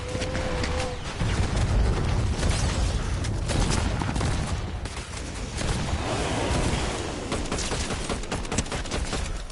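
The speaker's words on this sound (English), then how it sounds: "That's an explosion." A Fortnite explosion during a live in-game event: dense, loud booming and crackling bursts that roll on continuously, like rapid blasts and gunfire mixed together.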